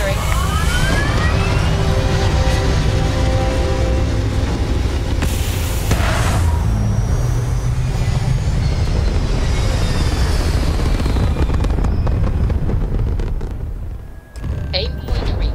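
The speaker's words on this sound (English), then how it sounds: "All thrusters firing." Spaceship thrusters firing at takeoff in the video game Starfield make a loud, sustained low roar with a rumbling, broadband wash that fades toward the end, and a voice talks over it.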